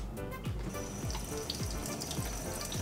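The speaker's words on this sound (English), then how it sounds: "Let's rinse this off." Tap water runs steadily over a stained glass panel as it is rinsed after a coating, a close, continuous splashing stream at moderate volume with no talking.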